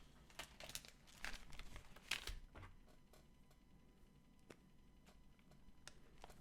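Quiet, scattered crinkly rustling and soft ticking clicks as tarot cards are slid back into a deck in different spots, with brief pauses between bursts.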